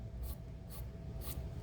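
A pencil sketches a rough outline on material in three short, scratchy strokes, evenly spaced and close, over low background hum.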